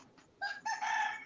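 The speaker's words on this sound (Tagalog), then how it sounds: "Na, nanlaok ng manok. Laok na." A rooster crows once at close range, a short, loud, rising call heard on its own.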